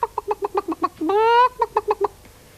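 A hen clucks in a quick, steady series of short notes, breaks into a longer drawn-out call, then resumes the rapid clucking, close and clear.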